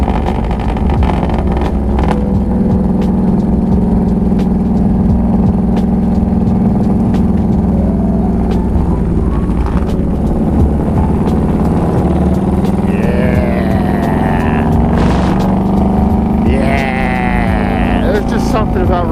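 A motorcycle engine drones loudly and steadily while riding, with constant wind-buffeted rumble throughout and shifting pitch as the bike moves.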